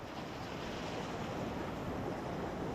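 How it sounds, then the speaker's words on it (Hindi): The Beas River flows steadily near Manali at sunset among pine trees, a dense, even broadband rush of water with some wind buffeting, loud and unbroken throughout. "अब हम आ गए हैं रिवर के एकदम सेंटर में। ये रही रिवर।"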